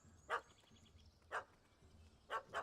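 A small yappy dog in The Witcher video game barks four times at uneven intervals, short sharp yaps at moderate distance over a quiet, low ambient background.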